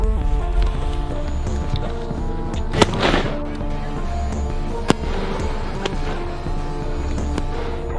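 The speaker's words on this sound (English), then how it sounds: "Oh, it's fireworks." Outdoor fireworks go off as a few sharp, scattered cracks and pops over a constant rumbling background, with no clear speech.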